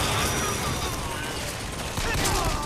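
Rapid pistol fire in BioShock Infinite rattles off in a dense, near-continuous stream of shots, mixed with busy game noise throughout.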